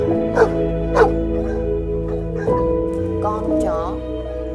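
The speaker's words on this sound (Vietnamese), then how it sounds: "Con chó." A dog barks in a few sharp bursts over a steady sustained musical or tonal background, fairly loud and close, with a rising whine near the end.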